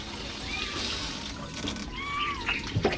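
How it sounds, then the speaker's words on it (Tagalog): Water splashes and trickles over sliced onion being rinsed in a kitchen, moderately close, with a few voices or bird-like chirps and clattering knocks near the end. "Hugasan lang po natin para maisalang uli mga kalaot."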